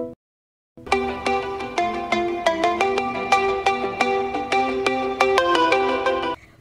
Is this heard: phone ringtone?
yes